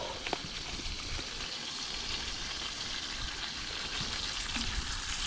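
Oil and steak fry in a pan outdoors by a wild pond, giving a steady close sizzle with scattered small pops throughout and no talk.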